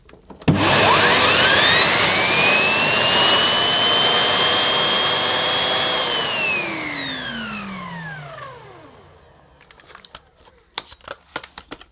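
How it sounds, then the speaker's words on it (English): A Sebo Airbelt D2 Komfort ePower vacuum cleaner with a turbo nozzle switches on with a rising whine, runs loudly and steadily, then winds down, followed by faint clicks. "The turbo nozzle will add to the noise level of the vacuum cleaner."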